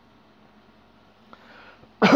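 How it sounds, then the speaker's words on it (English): A single deep, breathy cough bursts out near the end after a quiet stretch with only faint background noise, close and fairly loud. "Do another deep breathy cough."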